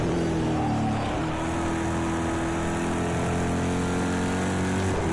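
A GTE race car engine revving from the cockpit, a loud, sustained droning tone with steady harmonics that rises slightly in pitch toward the end, alone with no talk.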